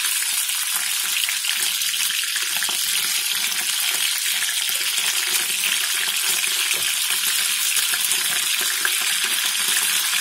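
Chicken legs fry in a pan with a dense, continuous sizzle and crackle, steady and close throughout.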